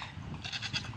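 A goat bleats several times in quick succession on a farm pasture, with a cluster of loud, strained cries in the second half, close to the listener.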